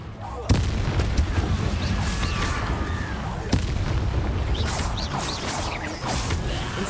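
An Incendio fire spell is cast in a magic video game, a loud sustained roaring blast with sharp bursts punctuating a dense wash of game noise throughout.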